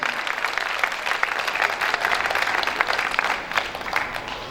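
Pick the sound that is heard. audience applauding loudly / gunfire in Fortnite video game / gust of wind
audience applauding loudly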